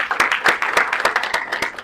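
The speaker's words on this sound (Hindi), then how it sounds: "तो जोरदार तालियां आज के लिए।" A small group of staff applauds at the close of a hospitality training session, with close, distinct claps in a quick uneven rhythm over just under two seconds.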